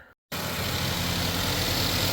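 A 2016 Ford Escape 2.0 engine starts idling after a throttle body cleaning, a loud steady hum that kicks in abruptly after a brief silence and holds even to the end.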